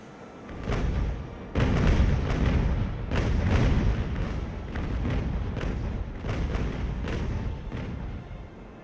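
Ship cannons fire in a naval battle in Ultimate Admiral: Age of Sail, a ragged series of heavy booms and thuds rolling over about nine seconds, some close and loud, others overlapping in quick succession.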